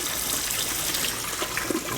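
Water splashes and gushes steadily in an aquaponic grow system, a continuous close, wet rush with no talking.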